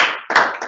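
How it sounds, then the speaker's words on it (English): An audience at an asphalt industry conference gives a short burst of close, dense clapping that dips briefly and then swells again. "This is clapping for Danny and Mike."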